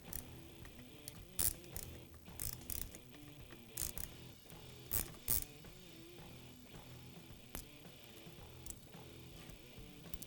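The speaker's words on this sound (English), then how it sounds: "we can remove the cylinder head by loosening the fasteners in a crisscross pattern" A ratchet works the cylinder head fasteners on a KTM 85 SX dirt bike, giving repeated short clicking strokes in steady bursts, close up over a faint mechanical background.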